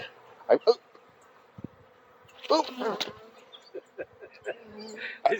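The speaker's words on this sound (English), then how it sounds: "They're flying everywhere, trying to get up under my suit" Angry bees buzz around a beekeeper's protective suit, their whines rising and fading close by in short bursts, mixed with rustling and a few brief vocal sounds from the wearer.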